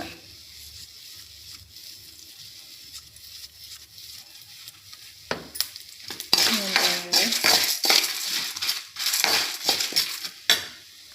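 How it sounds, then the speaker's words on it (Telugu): Dried red chillies frying in a pan for curry leaf powder, with a quiet start before loud scraping and rattling of stirring against the metal pan. "ఈ ఒట్టిమిరపకాయలు కూడా బాగా ఫ్రై కావాలి."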